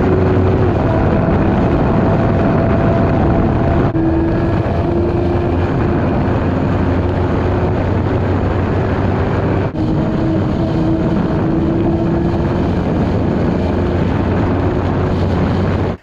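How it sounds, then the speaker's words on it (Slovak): A 2022 Honda CB650R four-cylinder motorcycle engine runs as a steady, loud drone mixed with heavy wind rush, continuous throughout with no talking. "za CBčku 650-ku R-ku hovorí najmä ten štvorvalec"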